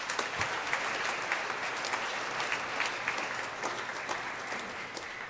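A church congregation claps loudly during a homily at a 5 PM Mass, a dense, sustained round of applause from many hands filling the hall, with only faint crowd murmur beneath.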